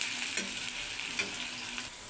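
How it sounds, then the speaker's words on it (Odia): Onions fry in a pan with ginger garlic paste, giving a constant close sizzle with a few soft stirring scrapes and no talking. "ଏଠି ପିଆଜ ଭାଜି ହେଇଆସିଲାଣି"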